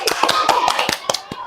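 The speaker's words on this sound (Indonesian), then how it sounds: "Luar biasa tepuk tangan." Hands clap in a brief burst of scattered applause from a small group, uneven taps close by, fading out after a second or so.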